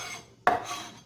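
A single sharp knife strike against a cutting board while roughly chopping falafel ingredients, close and distinct, followed by a short scraping rustle.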